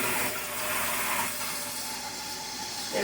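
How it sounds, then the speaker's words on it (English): Tap water pours steadily into a cooking pot being filled for spaghetti, a continuous close hissing rush that holds even throughout with no talking. "fill it up with some water"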